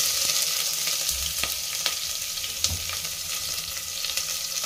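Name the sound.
frying onion in oil with mustard seeds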